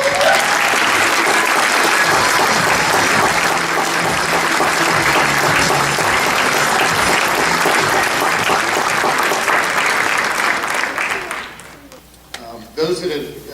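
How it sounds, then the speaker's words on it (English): At the SCS Hall of Honor 2018 ceremony, a large crowd claps and cheers loudly for over ten seconds before the applause fades and a voice begins speaking. "Everyone cheer, clap your hands, set the scene."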